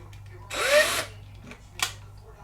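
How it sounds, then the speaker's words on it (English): A 1/8 inch drill boring a hole into an RC truck chassis part, one loud whining burst lasting about half a second, followed by faint scraping and a short second burst, close up with no talk. "just drill a hole right in the middle"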